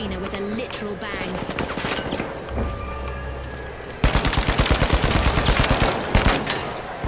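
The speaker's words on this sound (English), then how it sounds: "people are shooting me from the side" Gunfire in The Finals arena shooter, scattered shots at first, then sustained rapid automatic fire close by with players talking underneath.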